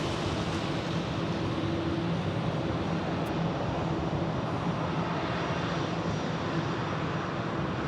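A Hawaiian Airlines airliner at Phoenix Sky Harbor Airport produces a constant, loud jet-engine roar with a faint steady whine, holding evenly throughout with no voices.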